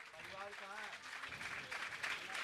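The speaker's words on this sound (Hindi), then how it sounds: "तालियां बजती रहनी चाहिए" Audience clapping at a religious discourse gathering in Doordarshan Colony, a soft wash of applause under someone talking over it, growing slightly fuller near the end.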